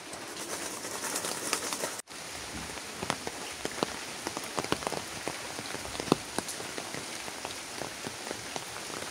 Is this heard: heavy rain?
yes